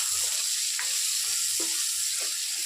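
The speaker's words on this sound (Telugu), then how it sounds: "ఈ నూనెలో మంచిగా ఫ్రై చేసుకోవాలి." Green chilies and onions frying in hot oil give a steady, close sizzling hiss, broken by a few soft clicks and light pops, with no one talking.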